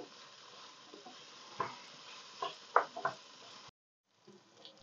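Diced bell peppers added to a pan with sauce, giving a soft steady sizzle with a few sharp clicks and knocks of stirring before it cuts to quiet.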